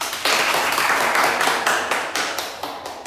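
Classroom applause from a group of students: a burst of dense, loud clapping that gradually thins and fades over a few seconds.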